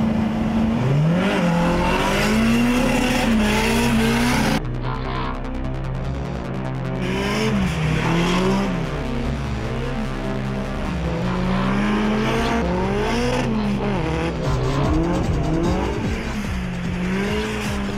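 Nissan 200SX drift car sliding with loud, sustained tire squeal over a revving, wavering engine note, continuous and close for the whole stretch.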